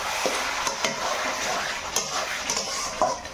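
Chicken meat stirred and fried in a pan over a clay stove, with repeated scraping strokes of a utensil over a constant close sizzle and no voices.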